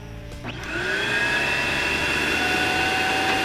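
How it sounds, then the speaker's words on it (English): A vacuum cleaner used to clean out a Weber Genesis gas grill switches on after a brief clunk. It then settles into a loud, steady whining drone that runs without pause. "go ahead and vacuum up the rest of the stuff you can get to"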